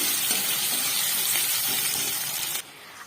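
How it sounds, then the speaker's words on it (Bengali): Chopped onion frying in oil in a wok, a dense continuous sizzle and hiss filling the space, loud and close, cutting off abruptly near the end. "বন্ধুরা এখানে দেখো আমি কড়াইয়ে তেল দিয়ে তারপরে একটা পেঁয়াজ কুচি দিয়ে দিয়েছি।"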